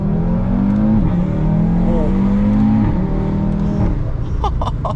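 A car with an aftermarket valved cat-back exhaust revs up and down close by, its loud, throaty note rising and falling in a few swells before settling into a rougher idle-like burble.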